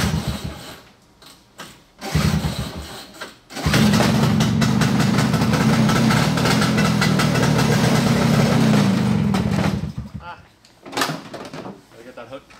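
A snowmobile engine with a freshly rebuilt carburetor cranks, sputters briefly, then catches and idles loudly and steadily for several seconds before cutting out, with a person speaking nearby.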